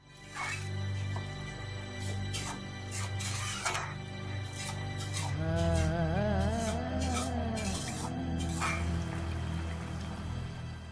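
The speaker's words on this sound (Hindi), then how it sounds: "थोड़ा सा पानी ऐड कर देंगे।" Water poured into a pan of cauliflower and potato curry, a steady liquid splash and trickle over a constant background hum, with some sizzling and clatter, no talk.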